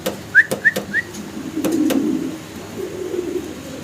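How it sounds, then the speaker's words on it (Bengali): A pair of Shallow fancy pigeons, leg-feathered birds, gives three short whistled calls near the start, followed by soft low cooing and fluttery rustling up close. "আসলে একজোড়া শ্যালো কবুতর দেখাচ্ছি আপনাদেরকে।"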